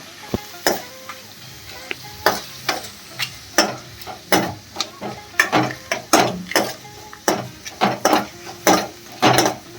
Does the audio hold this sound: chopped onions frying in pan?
yes